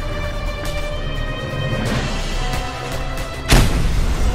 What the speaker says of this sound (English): Yeah, explosion.